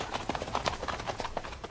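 Icelandic horse hooves pound rapidly at a gallop or pace, a fast, even drumming of hoofbeats heard outdoors against steady background noise.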